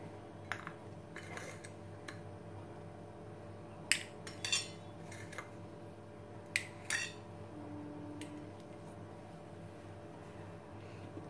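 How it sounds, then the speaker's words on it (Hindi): A knife cuts boiled eggs into quarters, giving a handful of sharp, sparse clicks and taps on a cutting surface over a faint steady hum in a quiet kitchen. "इस तरह से हम एग के चार चार पीसेस कर लेंगे।"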